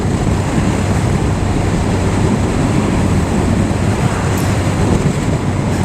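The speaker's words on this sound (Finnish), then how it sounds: "Aika kova tuuli." Strong wind blowing at Lake Utkujärvi near Kilpisjärvi, a steady, loud broadband roar with no letup, close to the microphone and with no voices.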